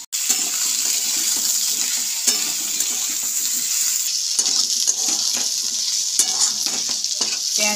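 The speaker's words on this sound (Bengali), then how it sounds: "পেঁয়াজ আলু হালকা করে ভেজে নিয়েছি।" Potatoes and half a large onion frying in a pan for a Bengali lentil fritter and ridge gourd dish, giving a steady close hiss of sizzling oil with occasional scrapes and stirring clicks, and no talk.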